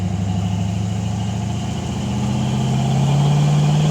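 A 1948 Chevrolet Stylemaster car accelerating and driving, with a steady, close engine drone whose pitch climbs gradually and smoothly as it picks up speed, no voices.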